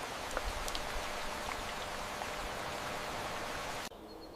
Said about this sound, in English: Rain makes the traps slick